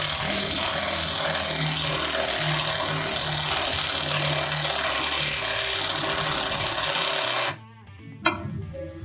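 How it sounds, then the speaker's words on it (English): An impact driver runs steadily, tightening a 5/16 serrated rivet nut while a wrench holds it in metal sheet, then cuts off abruptly, followed by a brief clack. "Take our wrench, put that on our 5/16 serrated nut, and an impact driver."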